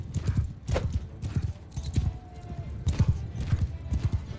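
Horse hooves clip-clop in a steady, rhythmic trot in the video game Mount & Blade 2: Bannerlord, close and moderately loud throughout.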